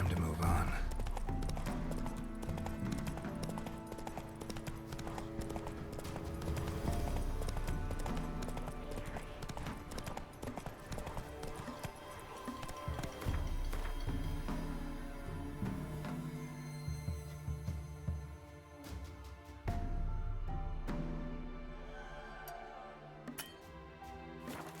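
Roach the horse's hooves trot in a steady clip-clop rhythm in The Witcher 3, close and clear over in-game music and ambience, with a voice speaking briefly.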